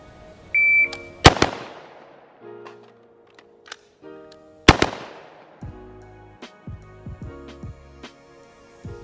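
Rifle shots fired at targets during a low-round-count rifle drill: two loud, sharp reports stand out several seconds apart, mixed with smaller clicks and electronic beeps from a timer, with no talking.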